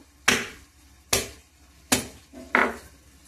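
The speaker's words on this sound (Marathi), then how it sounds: "ह्या कांद्याला असं फोडून घ्यायचं." An onion is smashed open by hand for a rustic drumstick curry, four sharp, loud cracks about a second apart with no talking.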